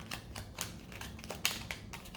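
Tarot cards are shuffled in a quiet room, giving soft papery riffles and light clicking taps at an uneven rhythm, close but faint, with no talk.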